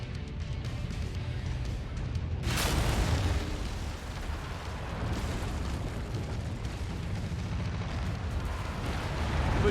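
Mech weapons fire in the video game MechWarrior 5, with a sudden loud explosion followed by a continuous low rumble of battle.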